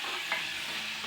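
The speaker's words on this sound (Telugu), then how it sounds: "కొంచెం వేసి కొంచెం పచ్చి వాసన పోయేటట్టు వేయించుకోవాలి." Ingredients fry in oil for a Telugu-style tamarind chutney, giving a steady soft sizzle with a brief stir or scrape near the start, heard alone without voices.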